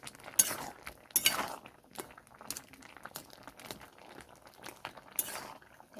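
A cooking pot lid is lifted to check simmering tomatoes, bringing a few sharp metallic clinks and scrapes, with rustling and soft knocks between them, close and fairly quiet.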